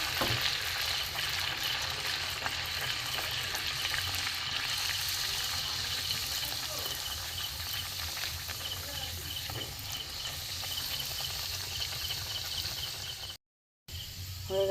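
Green puri (luchi) frying in hot oil, a steady, fairly quiet broadband sizzle running without pause, with a brief dropout near the end.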